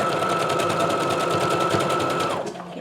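A sewing machine runs a straight stitch at steady speed, a loud, even rapid whirring hum with regular needle pulses that slows and stops near the end.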